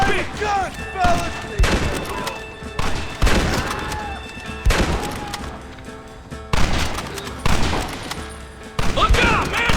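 A Red Dead Redemption shootout against United States Army soldiers brings loud, sharp gunshots in irregular bursts, each cracking hard and echoing, while voices shout between the volleys.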